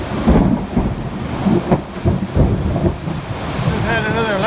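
Thunder rumbles through an afternoon thunderstorm with lightning and heavy rain, a loud, continuous roll mixed with rain noise and wind buffeting the microphone, and a faint higher tone warbles near the end.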